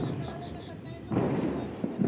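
A Diwali firecracker shot bursts during a Kota street celebration, a sudden loud, broadband crack and rumble about halfway through, with crowd voices and background noise around it.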